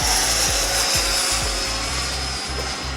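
An RC AeroFoam Albatros L-39 jet with a 105mm electric ducted fan flies overhead, giving a steady high-pitched whine with a low pulsing drone that passes repeatedly, loud and close, with no talk.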